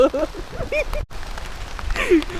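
Steady rain patters on the ground and surfaces outdoors along the crowded Sabarimala pilgrimage path, a close, even hiss heard under people talking nearby.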